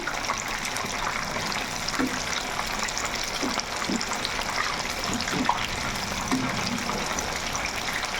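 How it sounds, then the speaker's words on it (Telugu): Chicken pakodi frying in hot oil, a steady soft sizzle and bubbling hiss with occasional small pops, fairly quiet and continuous. "ఇది చక్కగా అలా వేపుకోవాలి ఇంకా వేగాలన్నమాట"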